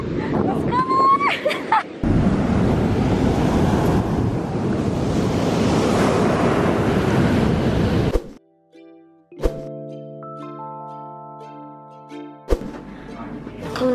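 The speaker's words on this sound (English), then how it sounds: "Look at this beautiful ocean." Ocean waves washing onto a beach with heavy wind buffeting the microphone, a loud continuous surf roar for about eight seconds, then a sudden cut to quieter clips with a sustained tonal chime and brief bursts of wind and surf.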